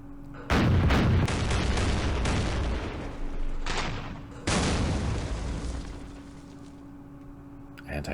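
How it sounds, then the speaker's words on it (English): A 40mm gun fires in the Campaign Series Middle East war game: two heavy booming bursts with long rumbling tails, the second arriving after a pause of several seconds, loud and close, followed by fading rumble. "That blasted 40mm gun."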